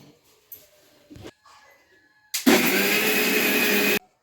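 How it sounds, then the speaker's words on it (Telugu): A kitchen mixer grinder whirs loudly and steadily for about a second and a half while grinding batter, after a stretch of quiet handling noises and faint knocks. "పిండి మొత్తం అయితే మిక్సీ పట్టాను అనమాట."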